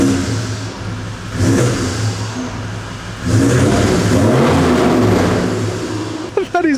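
A tuned Toyota Land Cruiser on 37-inch tyres revs hard in two loud surges, the engine note climbing and holding, with people talking over it.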